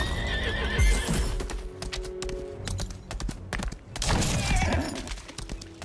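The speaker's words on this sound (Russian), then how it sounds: "Конь поворачивается в указанном направлении, встает на дыбы." A horse rears and neighs loudly in the video game Lost Ark, with a shrill whinny and stamping hoof clops over a busy, dense game soundscape.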